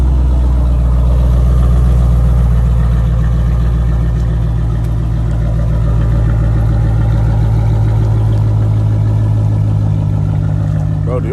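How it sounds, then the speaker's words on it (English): A second-generation Dodge Charger RT sits idling with a loud, steady, close-up engine rumble that holds an even drone throughout without revving. "do y'all hear that idle"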